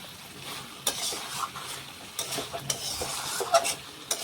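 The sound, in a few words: mutton being sautéed and stirred in a pan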